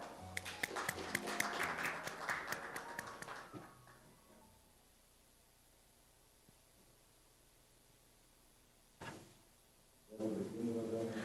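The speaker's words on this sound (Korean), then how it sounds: "큰 박수 부탁드립니다" Audience applause at the opening ceremony of a Korean-Northern culture strategy forum: a burst of clapping for about three seconds that thins out and fades into quiet room noise, with another short noisy stretch near the end.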